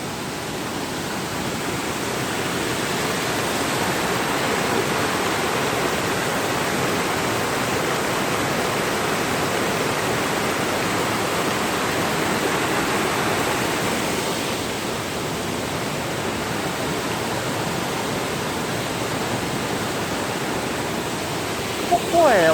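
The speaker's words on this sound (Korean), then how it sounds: "아 폭포를 좀 보여드려야 되나" A steady, broad rushing roar of a waterfall at a Jirisan mountain prayer site in the rain fills the scene, loud and unchanging.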